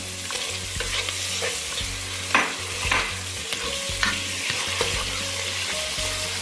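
Chicken pieces fry and get stirred in a hot pan with oil, the stirring giving a steady scraping rhythm over a constant sizzle, with a few louder clanks of the spoon against the pan.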